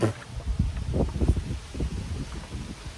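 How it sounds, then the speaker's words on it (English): Wind buffets a microphone in uneven gusts, a low rumbling rush with rustling bursts, fairly close and steady throughout. "And it's very windy today."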